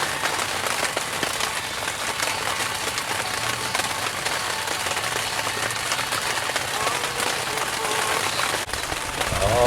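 Steady rain patters on an inflatable raft and the surrounding water on a July outing, a dense, continuous hiss close by, with a voice faintly underneath.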